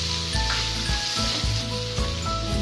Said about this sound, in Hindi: अब हम इसी पैन में आधा छोटा चम्मच तेल डालेंगे और जो हमने खड़े मसाले लिए थे वो इसमें डाल देंगे।